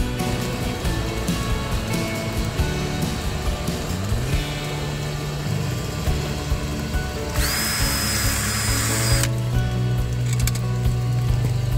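Power drill boring into the wall of a Masonic lodge building in Ocala, Florida, during a honey bee trap-out: a sustained whining motor that rises sharply in pitch for a few seconds, with rumbling mechanical noise around it, close and loud.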